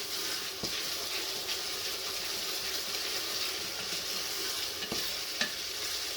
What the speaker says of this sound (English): So you're going to saute the meat as well, so you get a little bit of a browning on the meat.